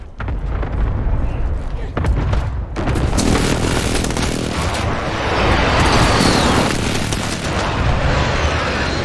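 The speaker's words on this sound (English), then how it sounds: "Precision airstrike inbound." Call of Duty precision airstrike explosions roll in as heavy, repeated booms and rumbling blasts over several seconds, loud and dense, with voices talking over the barrage.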